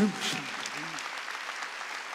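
Brief applause from a church congregation during a Korean Wednesday worship service, a soft steady patter of clapping after a preacher's voice at the start.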